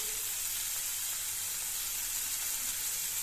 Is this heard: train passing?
no